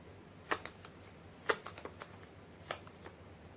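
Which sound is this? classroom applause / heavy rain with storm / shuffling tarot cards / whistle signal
shuffling tarot cards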